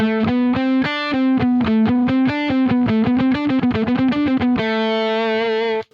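A distorted electric guitar plays a quick run of single notes, rising and falling in steady rhythm, then holds a final sustained note.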